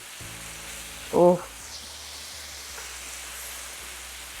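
Butter hits a hot pan of browned steak bites, giving a soft, steady sizzle and frying hiss close by, with a brief voiced exclamation partway through.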